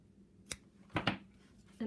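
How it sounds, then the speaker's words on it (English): Scissors snipping crochet yarn to fasten off a snowflake motif: a couple of quick, faint snips close by in a quiet room. "Then to fasten off, I always do a chain, and I pull it long, and I cut it."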